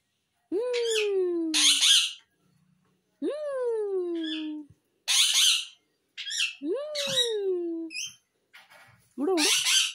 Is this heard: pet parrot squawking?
yes